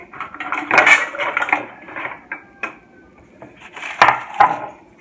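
Plates and dishes clatter and knock in a kitchen as roast breadfruit is plated with butter, with a few bursts of close handling and scraping, then quieter pauses and two more sharp clinks.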